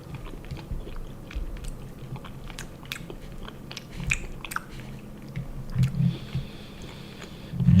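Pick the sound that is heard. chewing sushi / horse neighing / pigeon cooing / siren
chewing sushi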